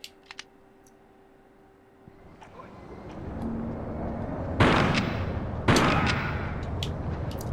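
Two loud, sharp shotgun blasts about a second apart ring out in the video game Tomb Raider 3, following a rising rumble of background noise and a few light clicks.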